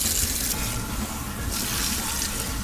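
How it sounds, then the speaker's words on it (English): Running tap water pours steadily over hair being saturated before a shampoo, a continuous close splashing rush with slight shifts as the stream hits the hair, no talking. "Okay, I'm just saturating the hair with water."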